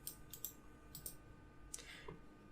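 Someone types a command on a computer keyboard, producing sparse, quiet clicks in small clusters over low room hiss.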